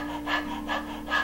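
A person imitates a panting dog with breath-of-fire breathing, three rhythmic, evenly spaced breathy huffs, close and alone.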